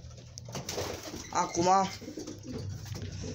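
Racing pigeons cooing in a dim loft, a short nearby rolling coo standing out over quiet shuffling, with someone speaking briefly.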